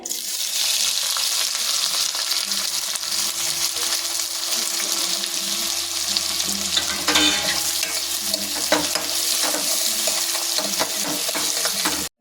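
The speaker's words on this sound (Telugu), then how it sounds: "ఆయిల్ వేసాను జీలకర్ర వేసాను ఇప్పుడు ఉల్లిపాయ ముక్కలు వేసుకోవాలి" Onion pieces frying with cumin seeds in oil in a pan for capsicum curry: a steady, bright hiss of sizzling oil lasting throughout, with occasional stirring scrapes and no talking.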